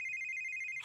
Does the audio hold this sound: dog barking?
no